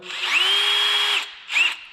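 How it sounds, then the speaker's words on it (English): A power drill spins a 3M abrasive pad screwed onto a small arbor, run on low speed in a shop while a two-piece welded racing wheel is reconditioned. A steady close whine holds for over a second, stops, then a second short burst follows. "I usually just stick them on a drill, put it on low and slow"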